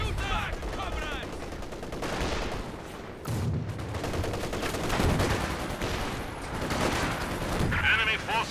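Company of Heroes 2 battle gunfire: dense bursts of rifle and machine-gun fire with heavier thuds mixed in, near and sustained, running under game voice lines.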